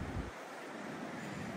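Ocean surf surging up a beach on the Oregon coast near Fort Stevens, a loud, continuous rushing wash of water mixed with wind noise on the microphone, close and steady, with no voices.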